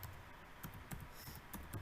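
Keystrokes on a computer keyboard while a command is entered in a MikroTik router terminal, a run of quick, fairly faint taps with a few sharper clicks over steady background noise.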